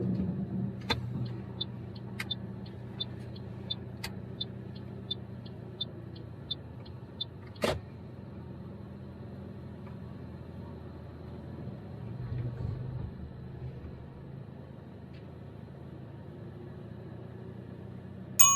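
A learner driver's car reverses slowly in a straight line during a mock driving test. A steady low engine rumble runs throughout, with a quick run of light ticking clicks early on and a few sharp knocks, and no talk.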